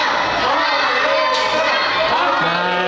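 A packed crowd at a Mexican lucha libre anniversary show, during the second bout as two women wrestlers make their entrance, yells and cheers without pause, loud and continuous with shrill individual shouts rising above the roar.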